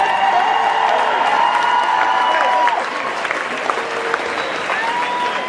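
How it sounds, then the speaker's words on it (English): Sustained applause from a large crowd at a school pep rally, dense clapping with cheers and whoops, easing slightly partway through but continuing to the end. "Y'all get on your feet for these seniors real quick and give them a round of applause."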